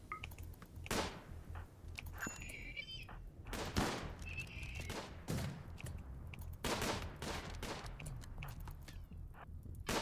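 Rapid gunfire from a RimWorld colony battle on cliffs, shots aimed at defensive turrets, sounding as dense bursts of sharp cracks and thumps repeating throughout, with small electronic chirps in between.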